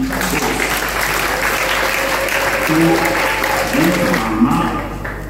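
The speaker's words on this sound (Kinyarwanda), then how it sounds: "mumfashe kubakomera amashyi" An audience applauds contestants at a Primusic music competition event, with loud continuous clapping throughout, some voices and faint tonal sounds mixed in beneath it.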